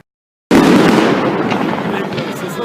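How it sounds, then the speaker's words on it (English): A Bonfire Night firework rocket goes off after a moment of silence, erupting into a loud, dense crackling burst that fades gradually over the following seconds. "Alright guys, I'm gonna set up the rocket."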